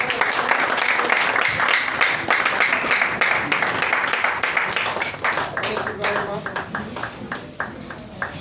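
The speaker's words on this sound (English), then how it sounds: "Give a round of applause for him again" Sustained applause from a lecture audience, steady and fairly close, tapering into scattered claps near the end while someone talks over it.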